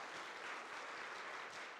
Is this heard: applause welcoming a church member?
yes